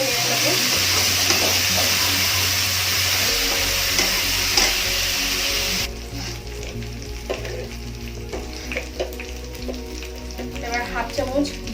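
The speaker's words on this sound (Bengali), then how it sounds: "দিয়ে এটাকে ভালো করে নেড়ে নেবো।" Green chilli paste stirred in a hot pan with young banana and shrimp, loud sizzling frying for several seconds, then quieter scraping stirs with occasional clinks.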